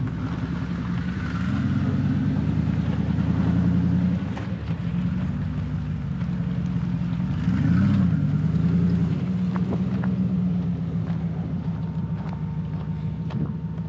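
Jeep engine rumbling steadily nearby as it climbs up and over a pile of tires, with the pitch rising and falling around the middle as the load shifts, then settling back to a steady drone.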